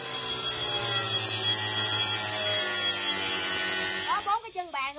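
A saw cutting a metal bar: a continuous high-pitched power tool whine holds steady for several seconds, then breaks into an uneven grinding rasp as it cuts.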